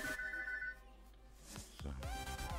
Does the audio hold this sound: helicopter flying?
no